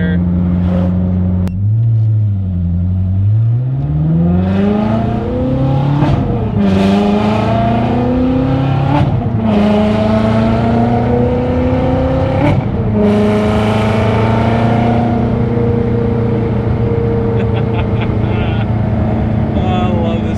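A Ferrari sports car driving and revving, its engine note climbing and falling through repeated gear changes, loud and close throughout, with someone talking over the engine at points.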